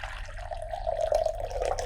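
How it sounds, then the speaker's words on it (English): Liquid, distilled water turned yellow, is poured out of a film developing tank in a continuous gurgling stream that grows slightly louder midway, with no talking. "We're gonna pour everything out into,"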